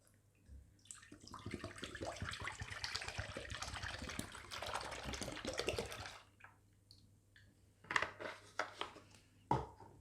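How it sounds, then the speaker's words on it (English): A liter of whole milk pours into a pan in a home kitchen for lemon custard, a continuous liquid splashing and gurgling for several seconds, then a few clinks and knocks of cookware, fairly close. "I'm going to put whole liter of milk"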